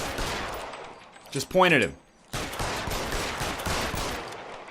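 Gunfire in LA Noire: rapid crackling shots under a faint background, a brief pause, then more scattered pops, with someone speaking briefly in the middle.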